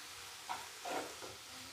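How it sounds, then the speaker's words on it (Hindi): Soft, steady sizzle of tomatoes and peas frying in a pan, with faint stirring scrapes rising briefly, quiet and close, no talk. "टमाटर को भी हल्का से फ्राई कर लेंगे"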